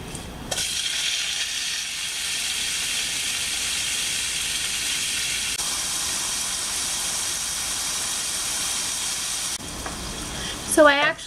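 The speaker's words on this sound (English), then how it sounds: "Oil has melted in our pan, and we're just going to stick in our pork." Pork frying in melted coconut oil in a pan, a steady, loud sizzle that holds throughout, with a brief clatter near the end.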